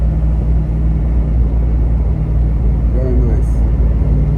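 A 1970 Chevrolet Chevelle LS6 classic car cruises with a steady, deep low engine rumble throughout, close and loud inside the cabin, while someone talks over it.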